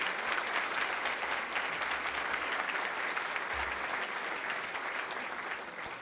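An audience at a spring general assembly applauds steadily for a committee, a uniform, moderately distant wash of many hands clapping that fades slightly near the end.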